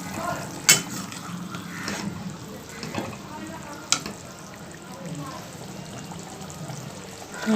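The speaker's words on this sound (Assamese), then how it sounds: "এতিয়া উতলাৰ পিছত মই মাছখিনি দি দিছোঁ" Fish goes into boiling water for an Assamese fish tenga curry, giving a bubbling, splashy simmer with a few sharp clatters of utensils against the pot, close by.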